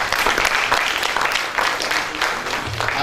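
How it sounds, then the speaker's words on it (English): An audience at a national science innovation projects competition claps for the presenters, a close, dense patter of many hands that holds steady for a few seconds. "Let us have a big hand clap for those people who have been presenting."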